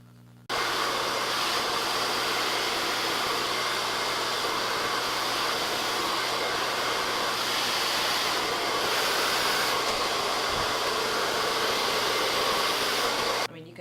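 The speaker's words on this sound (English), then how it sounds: "I'm going to turn that on full blast on high heat because that's what I do, and I'm just going to blow dry my hair really quickly" A hair dryer runs on full blast at high heat, a steady loud rushing whoosh that starts abruptly and holds without a break for about thirteen seconds before cutting off.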